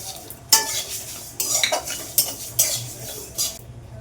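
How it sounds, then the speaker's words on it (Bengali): White mustard seeds tipped into a hot pan already holding panch phoron and a chilli for raw mango kasundi, heard as a few sharp spoon clinks and stirring scrapes in quick bursts, close and clear. "এবার আমি সাদা সর্ষেটা দিয়ে দিচ্ছি"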